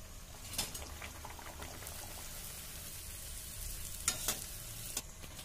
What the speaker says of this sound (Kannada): ಈಗ ಇದನ್ನು ಹಾಕ್ತೇನೆ ಎಣ್ಣೆಗೆ